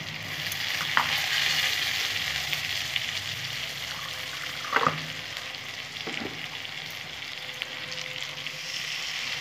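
A spice paste of mustard, poppy seed, green chilli and melon seeds fries in a pan for a tengra fish curry, giving a constant bright sizzle with a few soft stirring clicks and no talk.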